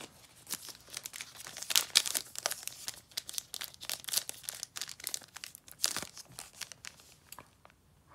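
A foil pack of basketball trading cards is torn open by hand. It gives loud, close crinkling and tearing in irregular bursts for several seconds, and no one speaks.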